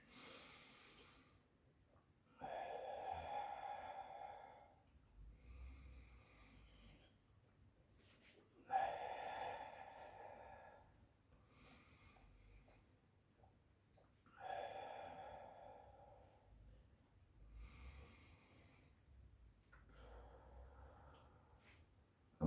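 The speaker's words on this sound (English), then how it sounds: "So now we'll go for a breath hold after 5 big breaths in." Big, deep breaths are drawn in and pushed out close to the mic in a slow, regular rhythm, each one a loud rushing gust, taken before a breath hold in a chest freezer ice plunge.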